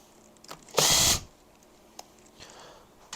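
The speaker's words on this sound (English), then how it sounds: "I am going to zip these off with an impact." An impact wrench zipping out cylinder head bolts on a Honda CB350F motorcycle engine: one loud, short whirring burst, followed by small clicks and clinks of parts being handled.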